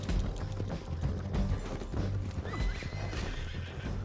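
Hooves clip-clop at a steady gallop while a horse whinnies loudly, with a busy, continuous background of game-like effects from Red Dead Redemption 2.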